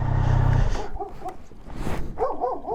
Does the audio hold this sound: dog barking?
yes